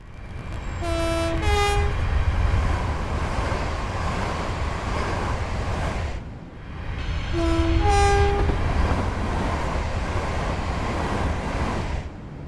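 Hitachi Class 385 electric train from Train Sim World 3 rolling along with a loud continuous rumble and rush, sounding a two-tone horn twice, each blast near the start of a run, one brief dip between.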